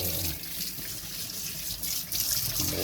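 Meat is rinsed under a running kitchen tap: a steady, close rush of water with splashing shifts as the meat moves in the stream, and no voices.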